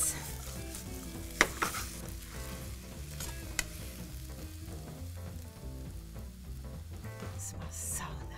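Beef chow fun with bean sprouts and garlic chives is stir-fried in a wok, giving a continuous sizzle with a few sharp clacks of the spatula against the metal, close and fairly quiet with no talking.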